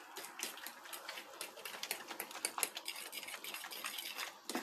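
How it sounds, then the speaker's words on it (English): A tortilla de patatas mixture is stirred in a bowl, giving a continuous quick scraping and clicking texture close by, steady for several seconds with no speech. "We start to stir it."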